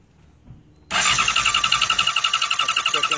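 A car engine cranks but fails to start, its check engine light flashing as a fault: the starter whirs in a fast, even, loud pulsing rhythm after a second of near silence, with no talking.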